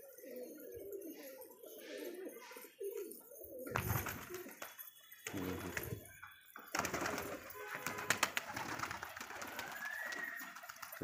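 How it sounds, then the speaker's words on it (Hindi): Pigeons cooing close by, repeated throaty coos in clusters over steady low rumble, with occasional wing flaps and brief rustling between calls. "कितने तगड़े उड़ते हैं कबूतर, ये आवाज़ सुनी कबूतरों की।"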